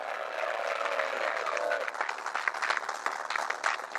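A crowd applauds at a live event held inside a prison, a dense wash of clapping that stays steady at first and then breaks into louder, uneven bursts, fairly close, with no one speaking over it.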